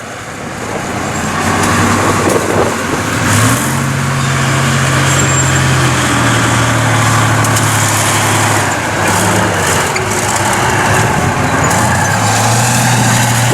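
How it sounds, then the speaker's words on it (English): An M36 Jackson tank destroyer drives close by, its engine a loud, steady rumble with shifting tones as it works to push through a gap. "This is the M36 Jackson that's just going to attempt to go through that hole."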